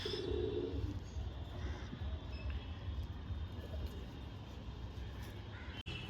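Low, continuous cooing from a pair of Giribaz pigeons, with occasional chirps and a crow-like call, plus a brief sharp click near the end and no speech.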